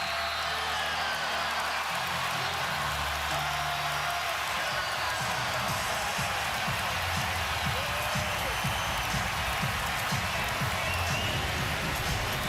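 Arena crowd at the 2017 NBA Finals applauding and cheering in a steady, dense wash of clapping that holds throughout, with a commentator talking over it.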